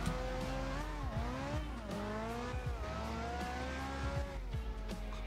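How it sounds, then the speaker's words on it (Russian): A Nissan GT-R engine in the video game MTA revs repeatedly, its loud whining tone climbing and dropping in several surges over a steady low rumble, with no talking. "В принципе, вот такой звук на GTR."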